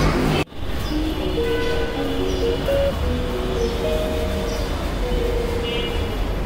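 A Dhaka metro train rides from Mirpur 10 toward Segunbagicha with a continuous rolling rumble and a faint tonal whine, close and steady throughout.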